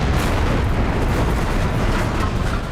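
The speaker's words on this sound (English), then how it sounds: "Calling in artillery!" Artillery strike explosions in the tank combat game War Thunder: a loud, continuous barrage of booming blasts and rumble that blur into one dense roar with no pauses.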